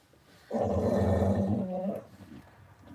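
A dog growls deeply and loudly at close range in one sustained rumbling snarl lasting about a second and a half, then falls back to quiet.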